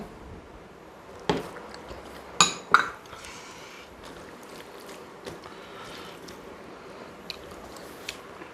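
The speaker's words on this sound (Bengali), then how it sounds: "এইবারে বেগুন দিয়ে রুই মাছ ঢেলে নিলাম।" Rohu fish curry with eggplant is poured onto a plate, giving a few wet squishy plops and clinks of a spoon against dishware, close and fairly quiet.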